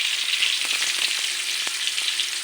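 Onion fries in a pan with a steady, close, continuous sizzle that holds evenly throughout, with no talking.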